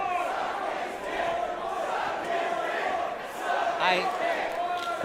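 A wrestling crowd at a Juggalo Championship Wrestling event shouts and yells in a steady, reverberant roar, with a louder surge of cheering near the end and a commentator talking over it.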